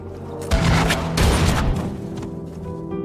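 A gunshot in a war film: a loud, close burst of booming fire with a rumbling tail, with a second blast overlapping about a second later.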